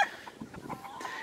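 A brassy back stag rooster and a three-year-old hen cluck close by in a pen, giving a few short, quick bursts of clucking.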